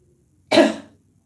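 One deliberate cough during a yoga breathing exercise, loud and close, breaking a quiet background and fading within a fraction of a second.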